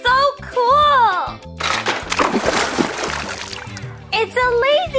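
Water splashes and sloshes in a bursty spray at a kids' splash pad between bright voices, with children and others talking before and after the splashing.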